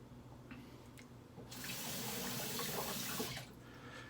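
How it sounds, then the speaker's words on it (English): Tap water runs into a sink while a Dovo Shavette razor blade is rinsed off, a steady close rush lasting about two seconds, with quieter handling and water sounds before and after. "Even though I have running water, standing water, I'm still rinsing off the blade here."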